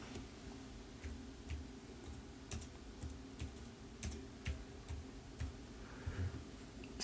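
Keys tapped on a computer keyboard of a mobile data terminal used for fire dispatch messaging, a steady run of light, close clicks over a low background hum.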